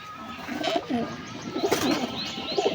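Pigeons coo nearby in soft, rolling repeated calls, with several overlapping phrases over a light background hiss.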